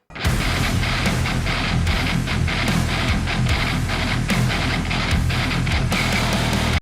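A loud, dense wall of heavily distorted electric guitar through a Fortin Nameless amp, with low chugging riffs and sustained crunch, continuous and forceful throughout.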